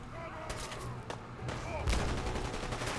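Super mutants fire guns in Fallout 4: sharp cracks and bursts of shots ring out at a moderate distance in a steady, noisy firefight, with a voice mixed in.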